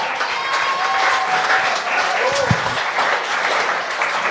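A comedy club audience applauds a comedian leaving the stage, a continuous wash of clapping and crowd noise with a host's voice over the top and one sharp thump near the middle.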